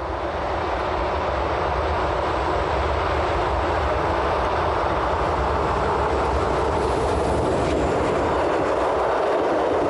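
A Swiss train runs at speed, near 125 km/h, giving a loud continuous roar and rumble heard from onboard, steady throughout with no talk.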